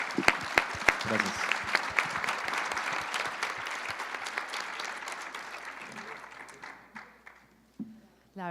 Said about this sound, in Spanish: Pero aplauso al gran panel que hemos tenido.